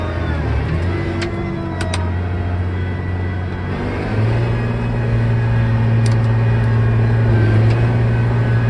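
A John Deere 8300 tractor engine drones loud and steady as gears are upshifted, its low hum shifting pitch partway through with faint clunks from the shift.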